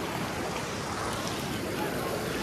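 Steady broadband rush of a flowing stream at a mountain site near Katra, continuous and fairly loud across the whole stretch, with no clear talk over it.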